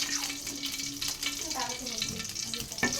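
Potatoes fry in a pan with a steady sizzling crackle. Stirring clinks and scrapes come and go, and running water and light background activity can be heard close by.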